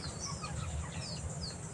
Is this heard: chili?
no